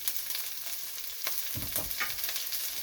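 Onion and garlic sautéing in a pan for Filipino chicken tinola, a soft steady sizzle with a few stirring scrapes near the end.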